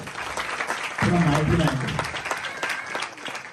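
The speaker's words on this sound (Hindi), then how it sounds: "जोरदार तालियां" Congregation applauding during a Christmas sermon in a church, a steady wash of clapping running through the clip while a preacher's voice rises loudly over it in the middle.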